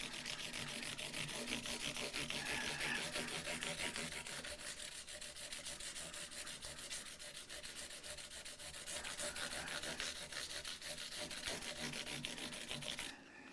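Abrasive rubbing with 400 grit paper on Epiphone ES339 guitar parts, a steady run of back-and-forth sanding strokes, close and continuous, cutting off abruptly near the end.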